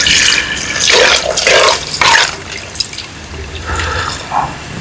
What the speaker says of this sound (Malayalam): നമുക്ക് ആവശ്യത്തിന് കുറച്ച് വെള്ളം ഒഴിച്ച് കൊടുക്കാം